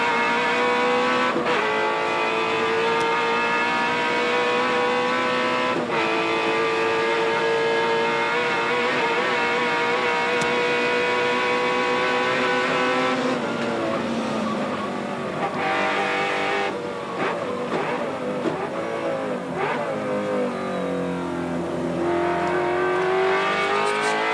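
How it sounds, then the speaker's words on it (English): A loud, sustained V8 race car engine roars continuously at the 1991 Bathurst race, rising and falling in pitch as it revs, with passing cars sweeping through near the end. "Just listen to that awesome V8."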